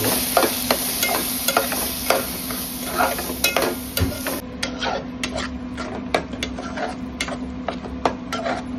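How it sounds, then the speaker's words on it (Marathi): Red masala roasting in a pan for a homemade crab curry, with steady sizzling and repeated scraping stirs close by, and sharp spoon clicks against the pan throughout. "आता ह्या मसाल्याला थोडंसं वाफेवरती गरम करून घ्यायचं"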